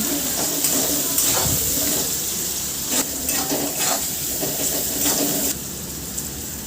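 Onion and garlic frying in a pan with salt and turmeric, stirred steadily: a continuous sizzle with scraping and clinking spoon strokes throughout, fairly close and even in level.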